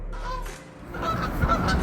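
Geese that have landed on a house roof honk in a quick burst of nasal, overlapping calls, loud and close, with no talking.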